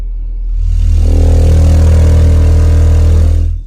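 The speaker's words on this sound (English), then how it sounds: "let's do a 40 hertz test tone just for the heck of it" A loud, deep 40 Hz test tone pumps through a car audio system driven by an AudioPipe budget amplifier, swelling in after half a second and holding a heavy droning buzz before cutting off, with no talk.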